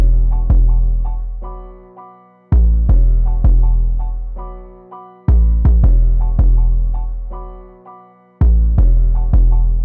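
A booming 808 bass from a drum kit, programmed in FL Studio, plays a pattern of loud, deep tuned hits, each swelling and decaying over a couple of seconds with quicker stabs between, alone and up front.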